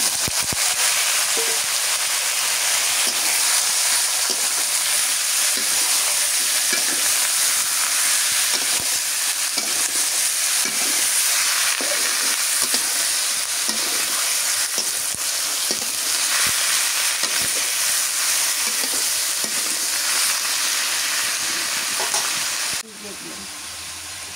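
Fish curry ingredients being stirred in a frying pan, with steady close sizzling and hissing under repeated scraping strokes of a spoon that continue throughout before a sudden drop near the end.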